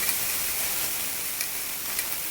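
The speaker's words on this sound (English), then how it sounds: "Once it's browned, and listen to that sizzle." Beef pieces sizzle steadily as they brown in a pot, a close, continuous frying hiss with small pops and crackles and no talk.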